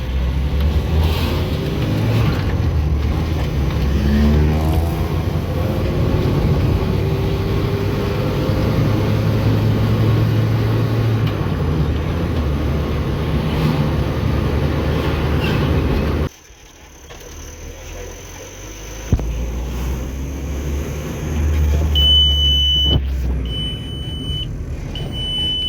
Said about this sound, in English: Engine is much quieter